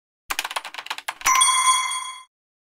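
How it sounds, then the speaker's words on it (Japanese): A bright two-tone electronic chime rings out once and sustains for about a second, like a doorbell, right after a quick run of tapping clicks. "ピンポン。"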